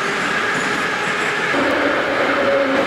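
Moscow metro subway train running at speed, a loud, steady roar of wheels and rails with a faint screech, heard up close and continuous without any talk.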